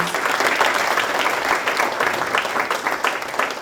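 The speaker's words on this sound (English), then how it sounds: "give him another round of applause" A round of audience applause for Coach Senge at the 2019 hockey Personality of the Year awards, steady, full clapping from a sizeable crowd held at an even level.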